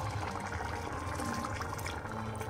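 Boiled water is poured into a pot of Punjabi chole curry, a faint, continuous splashing and gurgling of liquid heard close up for a couple of seconds.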